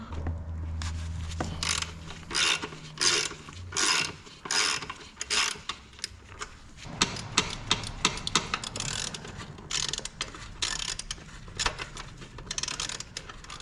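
Bolts are undone on the intake manifold of a second-generation Toyota 4Runner engine using a ratchet: bursts of rapid clicking repeat in short runs, close up and fairly loud, with no talking.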